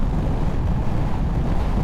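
Steady, heavy wind roars across the microphone while riding an adventure motorbike, a dense continuous rush with no gaps and no talk.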